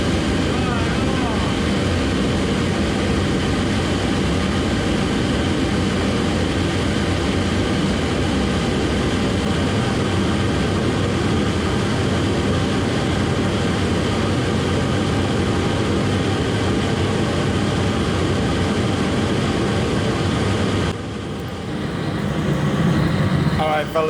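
A homemade cyclone plate burner roars through a test firing, a loud, dense, continuous broadband rush holding steady for over twenty seconds before briefly dropping near the end, with a voice speaking over it.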